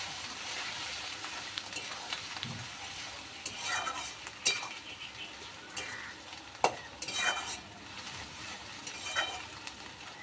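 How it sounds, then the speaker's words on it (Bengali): Spice paste and ground cumin paste sautéing in a pan for potato biryani, a steady sizzle under repeated stirring and scraping of a spoon against the pan, with occasional louder clinks, close up and without talking. "এবার সব কিছু আমি ভালো করে কষিয়ে নেব।"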